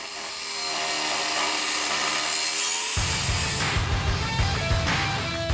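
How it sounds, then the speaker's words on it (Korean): Cement foundation stones for a glamping tent are trimmed with a power tool, giving a continuous loud grinding and rasping whine that turns rougher and more gritty partway through, with no talk. "시멘트로 만든 주춧돌을 다듬기 시작한다"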